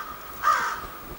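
A single raven caw rings out in the middle, a short harsh call standing alone against quiet background during an insight test where the bird must choose between crossed strings to pull up meat.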